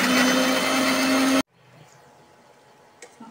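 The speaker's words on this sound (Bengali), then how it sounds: "ব্লেন্ডার জারে পেস্ট করে নিচ্ছি।" An electric blender jar grinds onion, tomato and green chili into paste with a loud, steady whir that cuts off abruptly after about a second and a half, leaving quiet room noise and a small clatter.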